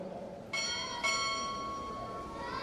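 A ship's bell is struck twice at a naval chief petty officer pinning ceremony, two bright metallic rings about half a second apart, the second left to ring and fade.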